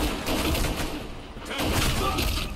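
AK-47 firing full-auto in the online shooter Black Squad, a dense continuous rattle of rapid shots with a brief lull midway, heard amid busy game audio.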